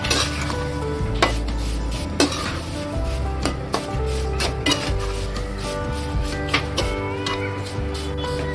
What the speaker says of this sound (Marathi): आपण थोडी परतून घेऊया तुपावर, मग त्याच्यात गूळ टाकूया।